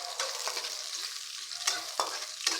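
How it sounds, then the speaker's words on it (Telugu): Onions and garlic fry with cooked chana dal in a pan, a soft, steady sizzle broken by a few sharp scraping stirs; quiet, close and without talk. "కొంచెము ఆనియన్స్ తెల్లగడ్డ ఎర్రగడ్డ తెల్లగడ్డ వేస్తున్నానండి ఇవి కూడా కొంచెం వేపేస్తున్నాము"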